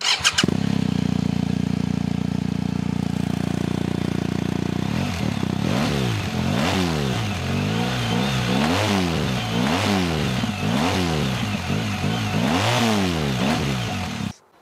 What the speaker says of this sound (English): the exhaust note is something that will really egg you to throttle it out hard